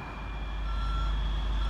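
A tow truck's reversing alarm sounds as a steady high beep over a low diesel engine rumble, fairly loud and close, with no talking.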